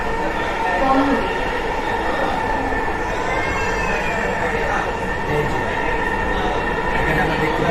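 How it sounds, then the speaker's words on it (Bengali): Dhaka metro rail trains passing each other on an elevated line during heavy rain, a steady broadband rumble and rush that holds at even loudness throughout, with faint voices underneath. "ট্রেন পার হয়ে যাচ্ছে, দুটো ট্রেন"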